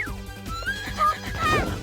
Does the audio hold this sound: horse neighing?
yes